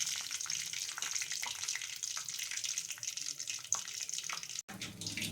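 Mustard seeds and cumin spluttering in hot oil in a pan while tempering for sambar: a dense, steady crackling sizzle throughout, fairly close, with a brief drop near the end.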